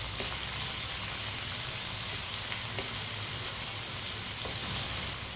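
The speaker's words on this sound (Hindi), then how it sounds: "टमाटर को भी इधर थोड़ा सा पका लेंगे 1 मिनट के लिए।" Finely chopped tomatoes fry in a pan for aloo bhindi, giving a steady close sizzle with faint crackles and an occasional stir scraping through.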